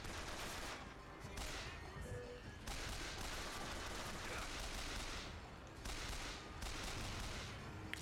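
The repeater machine gun in Bioshock Infinite fires in long rapid bursts, broken by short pauses, a sustained rattling barrage heard at moderate distance without talk.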